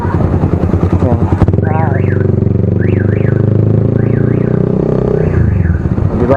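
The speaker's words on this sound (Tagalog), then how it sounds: "Diba ganun kaingay itong motor ko guys. Kasi yung kotse nag-a-alarm eh." A loud motorcycle engine rumbles close by while a nearby car alarm wails in repeating rising-and-falling warbles over it, the engine revving briefly at the start.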